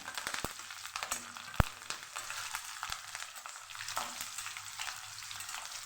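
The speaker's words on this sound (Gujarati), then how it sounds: "મરચાંને થોડા સકળાવા દઈશું" Green chillies fry in hot tempering oil with curry leaves and white sesame seeds, giving a close, steady crackling sizzle broken by sharp pops and clicks of stirring.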